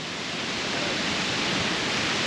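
A close, unbroken roar of cascading water from Strawberry Bay Falls onto Third Beach on the Olympic coast fills the moment, heavy and uniform without any speech.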